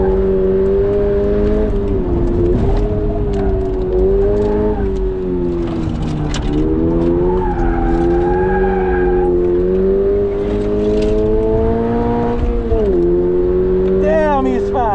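A stock 2022 Subaru BRZ engine revs loudly and continuously during drifting, its pitch climbing and dropping through heel-toe downshifts, with tire noise and a brief squeal near the end.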